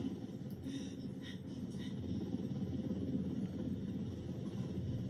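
A steady low whirring drone of a helicopter in the video game Ghost Recon Wildlands hovers throughout, moderately quiet and constant, with a few faint higher tones drifting above it.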